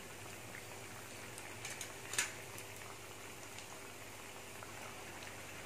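Raw banana vadai deep-frying in hot oil, giving a soft, steady sizzle with scattered faint crackles and one sharper pop, heard close and alone.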